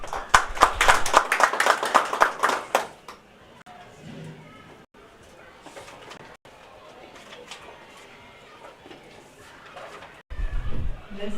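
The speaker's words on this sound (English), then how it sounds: "Let's give them another hand clap." Audience members at a public consultation meeting on licensing water service providers clap after a presentation, a few seconds of lively, uneven clapping that drops away into quieter room sound and low speech.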